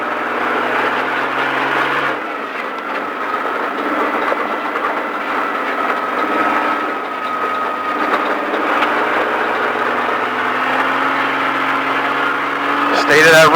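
A car engine revving on a racetrack at Speed Vegas in Las Vegas: a loud, sustained engine drone climbs and holds in pitch for most of the stretch, and a voice talks over it.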